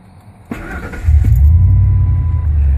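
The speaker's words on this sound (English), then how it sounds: "I'll start it for you so you can see it." A 2001 Ford F-150 with a 4.6 V8 and an aftermarket single-in dual-out muffler cranks briefly, then catches and settles into a loud, steady rumbling idle close by.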